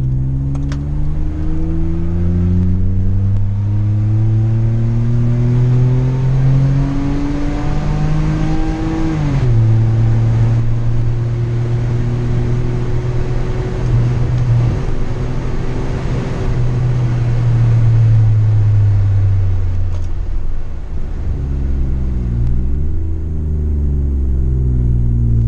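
A Hyundai Grand Santa Fe 3.3 V6 with a stainless steel exhaust diffuser revs repeatedly, its deep exhaust rumble climbing and dropping in pitch, loud and close, with no talking.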